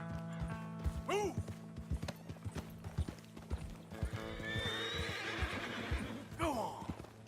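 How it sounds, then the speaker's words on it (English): Horses in Red Dead Redemption 2 clop along in steady hoofbeats and let out loud whinnies, near and lively, with a voice urging them on. "Come on, horses."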